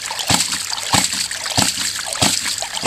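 A water ram pump on a 2-inch pipe from a farm dam cycles with sharp rhythmic splashing surges about every 0.6 seconds, loud and close, over a constant rush of spilling water.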